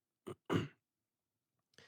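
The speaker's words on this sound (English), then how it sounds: "Every time I have a second, I'm coughing." Two short, close coughs from one person come in quick succession, followed by silence and the start of another faint throaty sound.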